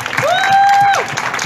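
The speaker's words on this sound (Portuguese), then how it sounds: "Salva de palmas pra vocês" Applause breaks out from the audience at a ball, with a crowd clapping and a sustained tonal whistle-like sound riding over it for a moment.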